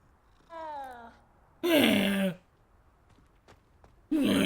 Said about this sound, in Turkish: Miyavlamayı bir dinleyin, çok iyi dinleyin.